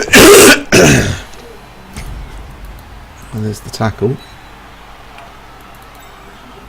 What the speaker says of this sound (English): I think it was a cough rather than a sneeze